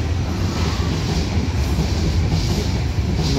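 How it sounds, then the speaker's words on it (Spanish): A Lima Metro Line 1 train, an Ansaldo Breda MB300, rolls into Pumacahua station with a loud, continuous rumble and rattle of wheels on rails, heard close by without speech. "Y nos despedimos aquí con vistas de uno de los trenes que va llegando a la estación."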